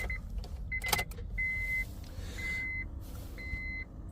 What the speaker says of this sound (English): so let's put the ignition on